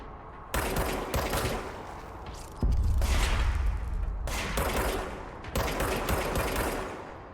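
Gunfire crackles in the video game Control. Several sharp bursts of rapid automatic fire arrive one after another, separated by short gaps, and one heavier blast in the middle adds a deep boom.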